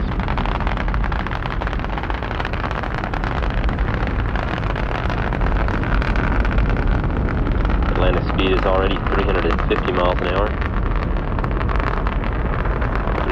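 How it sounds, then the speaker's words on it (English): A broad, sustained roar from the engines of space shuttle Atlantis during launch rumbles throughout, with a voice speaking over it partway through. "Three engines on Atlantis are now throttling back to two-thirds throttle"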